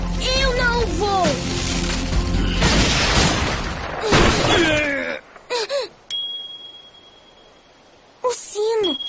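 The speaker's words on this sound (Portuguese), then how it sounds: "O sino!" A bell rings with a sustained metallic tone that hangs steady for about two seconds after a quiet gap, in a Portuguese-dubbed animated series, following a stretch of loud, cluttered sound effects and vocal cries.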